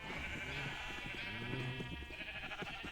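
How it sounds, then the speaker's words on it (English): Sheep in Minecraft bleating, several repeated wavering baa calls in quick succession over about three seconds, clear and close with no talking. "obviously we got multicolored sheep over here"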